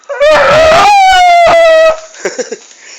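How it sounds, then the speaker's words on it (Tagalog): A pet dog howls loudly and close, one long sustained wavering howl that slowly falls in pitch, followed by a few short soft yips and whimpers as it trails off. "Yan yung alaga kong aso."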